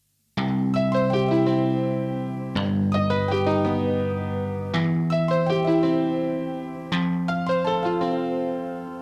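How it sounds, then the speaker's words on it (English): Twangy guitars, a Tron piano and a Kraut Kalimba patch strike four plucked chords, each with a sharp attack that rings out and slowly decays before the next, close and clean with no voices. "I'm going to use my twang guitars from my library along with my piano from my Tron"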